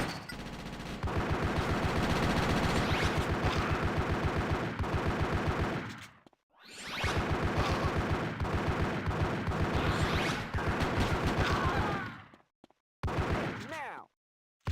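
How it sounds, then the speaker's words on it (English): Rapid dual-pistol gunfire from the GTA Chinatown Wars video game, loud sustained bursts of shots in long runs separated by brief silent gaps, with a final short burst at the end. "Alright, dual pistols."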